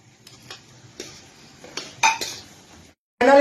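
Manchurian balls go one by one into a pan of cornflour gravy, giving a few soft clinks and scrapes of utensil against metal, with a sharper clatter at the end.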